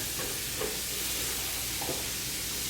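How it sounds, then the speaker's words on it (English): Onions cooking down in a pan for bourbon bacon jam, a dense continuous sizzle close up with two soft stirring scrapes, no talking. "we're going to let this cook about 5 minutes until the onions are caramelized"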